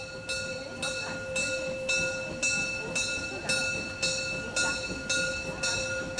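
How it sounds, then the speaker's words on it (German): The Molli, a narrow-gauge steam railway serving Kühlungsborn, Heiligendamm and Bad Doberan, passes through town. Its bell rings loudly at a steady, regular beat of about two strikes per second over a sustained tone and rolling train noise. "bahnt sich der Zug laut läutend den Weg"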